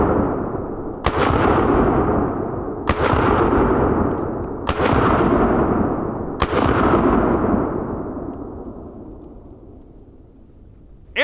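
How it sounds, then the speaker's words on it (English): An AR-15 rifle fires four loud, evenly spaced shots about two seconds apart outdoors, each sharp crack followed by a long rolling echo that fades before the next. "One thing I will say about the AR-15 is you could probably see how easy it is to shoot quickly and stay on target."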